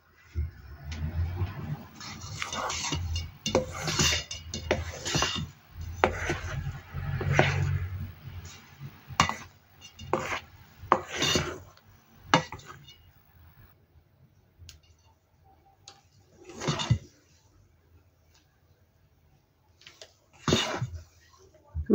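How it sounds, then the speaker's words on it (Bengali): Cake batter of flour and oil mixed by hand in a bowl, with irregular scraping and tapping strokes that come in a dense run early on and then thin out to a few sparse knocks. "আস্তে আস্তে করে মিক্স করে নিব।"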